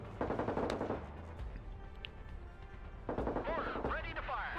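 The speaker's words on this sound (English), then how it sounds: "Let's drop some more mortars on there." In the video game Broken Arrow, mortar fire lands as a cluster of rapid booming impacts, then a quieter stretch before another burst of explosions, with someone talking over the battle.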